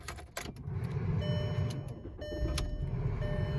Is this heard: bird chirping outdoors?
no